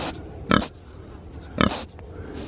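Near a meadow beside an ancient wood, a pig lets out two loud, close grunts about a second apart, separated by soft snuffling and faint background noise.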